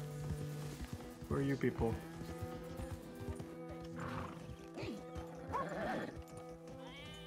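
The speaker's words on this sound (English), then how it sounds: "Off-roading horse, let's go." A horse gallops off-road in Red Dead Redemption 2, with soft hoof clip-clops, a whinny and animal bleats around it, while someone talks over the game sounds throughout.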